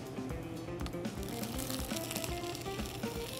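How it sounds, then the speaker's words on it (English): Pieces of tofu laid into a hot wok begin frying with a soft, continuous sizzle and crackle, faint and fairly distant in a campus kitchen. "So now we can start putting the tofu on."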